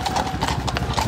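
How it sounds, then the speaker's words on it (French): Police horses advance along a city street during a yellow-vest protest in Brussels, their hooves clip-clopping in a quick, continuous patter against pavement over a dull background rumble of crowd and vehicles. "des policiers sur des chevaux qui sont en train d'avancer à l'arrière des véhicules de police ici même"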